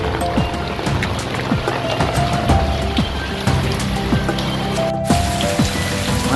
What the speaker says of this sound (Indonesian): Jadi curah hujannya emang sungguh sangat tinggi